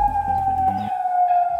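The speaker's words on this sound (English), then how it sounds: "Sirens blare across the Jordanian capital, warning residents to stay in their home." Sirens blare across the Jordanian capital during a curfew, a steady high wailing tone holding loud and continuous throughout.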